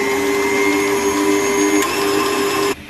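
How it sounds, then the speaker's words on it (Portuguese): An electric stand mixer runs briefly, mixing baking powder into two-milk cake batter, giving a steady loud whirring hum that cuts off near the end. "vamos ligar a batedeira só alguns segundos, só para misturar o fermento na massa"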